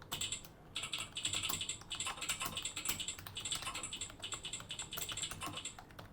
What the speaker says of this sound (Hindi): ये जो मेरा कीबोर्ड है ना, ये काफ़ी मतलब हार्ड है